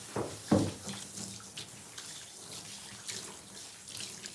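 A tap runs steadily while a Havanese dog is bathed in a tub or sink. A couple of sharper splashes open a continuous close rush of flowing water.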